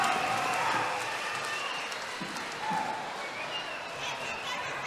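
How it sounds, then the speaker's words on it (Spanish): Crowd applause for boxers Pitallito Vega and Sama Zamarripa after their bout, a wash of distant clapping and arena noise that fades somewhat, with faint voices mixed in. "fuerte aplauso para Pitallito Vega y el Sama Samarripa por este"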